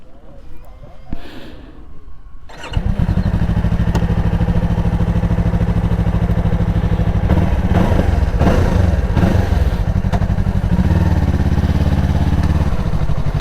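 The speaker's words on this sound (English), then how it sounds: "I want you to listen to the exhaust note of the motorcycle" A Yamaha R3 motorcycle starts up and settles into a loud, steady idle close by, its deep exhaust note throbbing alone with a few rev blips in the middle.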